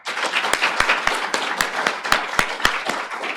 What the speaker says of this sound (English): I also hope you've joined me in a round of applause for Jolynn and all of her efforts